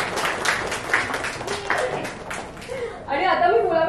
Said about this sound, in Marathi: त्यामुळे कावेरीसाठी आत्ताच आपण टाळ्या वाजवूया.